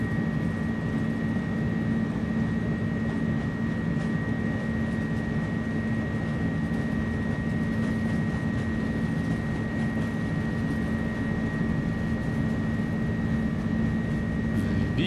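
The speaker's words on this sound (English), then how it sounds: "Engine spooling up. Looks like thrust is set." Airbus A300 jet engines roar on the takeoff roll in a flight simulator, a constant loud broadband rumble with a steady high whine running through it, unbroken and without talk.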